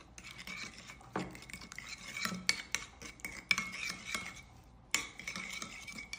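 Mayonnaise with salt and black pepper stirred by a utensil in a bowl, giving soft scraping and clinking strokes at close range, with a few sharper taps against the container and no talking.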